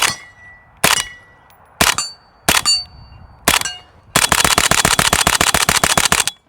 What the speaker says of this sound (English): Oh yeah, how about the gong? Oh, that one makes a good noise.